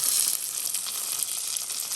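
Spinach cooking in a pan for a vanlife breakfast gives a steady, close, dense sizzle that holds evenly throughout without any talk.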